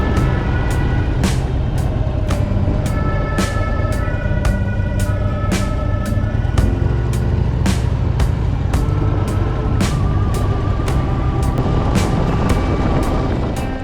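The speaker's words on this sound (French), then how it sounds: "je vais mettre un petit coup de gaz pour les rattraper" A motor vehicle engine hums loud and steady as the driver gives it gas to catch up with a group on a ride by the sea, with a regular ticking overlaid throughout.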